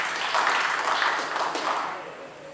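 An audience at a Lucknow mushaira and kavi sammelan applauds poet Mansi with a broad, sustained wash of clapping that slowly tapers off, with some voices underneath.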